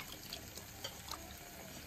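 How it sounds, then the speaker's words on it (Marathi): Tap water runs quietly and steadily as dried fish is washed, with faint splashes and drips over a low background. "मच्छी धुवून घेतली."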